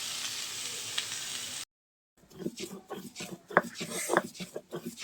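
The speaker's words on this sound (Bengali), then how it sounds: "ভাজা মাছগুলোকে এরকম বেটে নিচ্ছি।" Fried fish being ground into a paste for a Bengali mash, a rough rasping scrape repeating in uneven strokes with a few sharper scrapes, close, after a brief silence.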